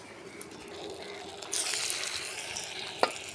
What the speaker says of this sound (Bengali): এই দেখো বড়টা ভাজা হচ্ছে।